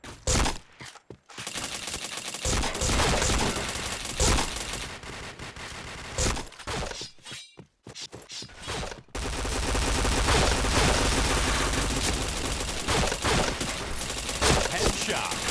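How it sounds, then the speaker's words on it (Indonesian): Repeated bursts of automatic and single gunfire from the online shooter Point Blank, loud and close, broken by brief silent gaps across the stretch, with no one talking. "Siapa nembak aku nih?"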